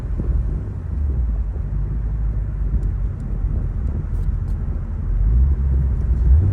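Deep, steady engine rumble from an air-cooled Porsche 993 being driven and shifted through its gears, heard from inside with low road drone swelling toward the end.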